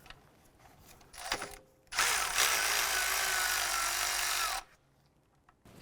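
A socket wrench on a 13mm socket loosens an alternator nut on a Volkswagen Jetta, a short burst of ratcheting and then a steady, close mechanical whir lasting a few seconds before it stops.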